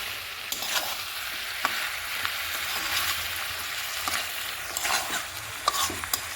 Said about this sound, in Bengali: একটু নাড়াচাড়া দিয়ে নিলাম